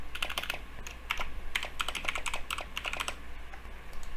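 Steady typing on a computer keyboard, a quick run of light key clicks in uneven bursts with short pauses, close and fairly quiet against a faint hum, no talking.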